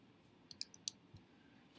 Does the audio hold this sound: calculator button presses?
yes